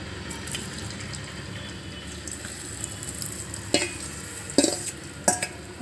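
Soy chunks (meal maker) cook in hot oil in a home kitchen, giving a soft steady sizzle broken by a few sharp clinks and scrapes of stirring toward the end, with no voices.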